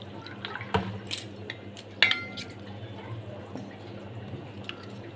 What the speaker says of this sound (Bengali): এর মধ্যে আমি সামান্য একটু জল দিয়ে 10 মিনিটের জন্য ভিজিয়ে রাখব